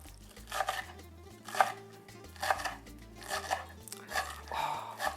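A knife chops a folded bunch of cilantro on a cutting board, a steady series of sharp close knocks roughly every second, with no talking.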